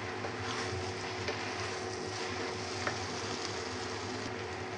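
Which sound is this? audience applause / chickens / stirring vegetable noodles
stirring vegetable noodles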